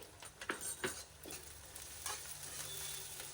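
Mutton frying in a pan with salt and spices: a steady, fairly quiet sizzle and hiss, with several scraping stirs and spoon knocks near the start before the frying settles into an even crackle.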